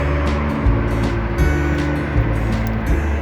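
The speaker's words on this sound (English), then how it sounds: "I'm sure you can hear interstate from here" A constant low rumble of distant interstate truck traffic with heavy engine drone and occasional swells, heard from a canal trail, steady throughout with no voices.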